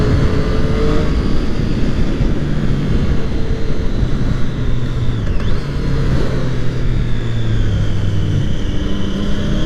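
A Triumph Street Triple 660S motorcycle accelerates hard with a loud, steady engine roar and rising tones, heard close from the rider's position over constant wind rush.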